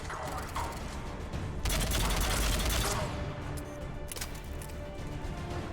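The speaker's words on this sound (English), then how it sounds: "Who's shooting me?" Rapid gunfire bursts in Mass Effect 3 combat, a dense loud volley swelling midway amid mechanical clatter, with sporadic shots around it.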